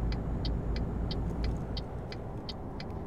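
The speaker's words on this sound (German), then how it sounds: "dann müssen wir mal ein bisschen schneller fahren und Gas geben" A truck engine in the Euro Truck Simulator 2 driving game gives a deep, steady rumble while an indicator ticks in an even rhythm over it.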